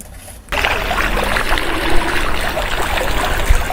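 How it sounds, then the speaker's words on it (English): A small garden pond fountain splashes steadily, a dense close watery patter that starts abruptly after a brief quiet moment and continues unbroken. "And we've got the pretty little pond with fountain here in the water garden."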